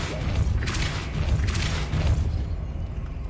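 Deep booming thrusts with airy bursts as a Depulso spell is cast in Hogwarts Legacy, loud and close, pulsing twice before fading into a low rumble, with no talking.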